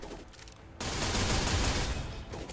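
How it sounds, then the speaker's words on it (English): Rapid volley of revolver shots from hammer fanning in the video game Limbus Company, a dense loud burst of gunfire erupting after a quieter lead-in and ringing out over about two seconds. "Oh, fan the hammer."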